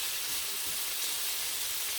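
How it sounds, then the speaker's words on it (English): Asparagus sauteing in a pan, giving a steady, soft hiss of sizzling that runs evenly throughout without pauses or voices. "I know y'all hear it sizzling and everything"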